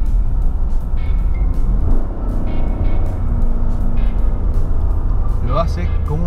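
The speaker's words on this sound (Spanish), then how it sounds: "Y si bajo así, ustedes van a oír el ruido del motor." A car with an 8-speed automatic gearbox, dropped into second gear, sends a steady engine drone and rising rev through the cabin. Someone talks loudly over it throughout.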